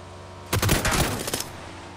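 Gunfire in a squad shooter video game: a sudden, loud burst of rapid automatic shots lasting about a second, then cutting off into quiet.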